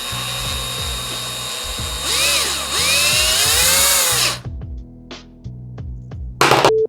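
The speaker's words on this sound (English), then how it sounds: "we'll need to screw in 4 of the bolts into the 4 rod stabilizers" Bolts being driven into rod stabilizers on an airsoft land-mine assembly: a powered driver whirs loudly for about two seconds over a steady mechanical hum, followed by a few sharp clicks and a short final burst.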